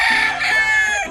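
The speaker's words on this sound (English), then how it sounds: "Yeah, these roosters are beautiful creatures, but boy, are they loud." A rooster in Tagaytay crows loudly and close by, one drawn-out call filling the moment, part of a group of seven birds.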